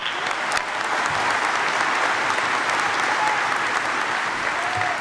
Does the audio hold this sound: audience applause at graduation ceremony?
yes